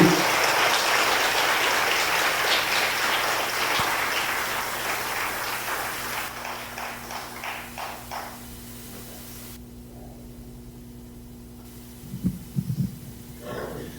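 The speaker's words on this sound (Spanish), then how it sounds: "Si usted lo cree al Señor, le va a tener un aplauso mientras yo me instalo allí." A church congregation applauds in a sanctuary, the clapping loud at first and thinning out over several seconds into a low hum, with a few brief sounds after.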